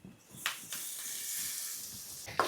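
Onions frying in oil in a pan while cooking mud crab sukka, a steady soft hiss and sizzle with a couple of sharper crackles, close and fairly quiet.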